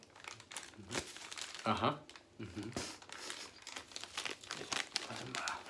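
A plastic ramen packet, Pringles-branded, crinkles and rustles in short bursts as someone tries to tear it open, with quiet conversational murmurs around the handling.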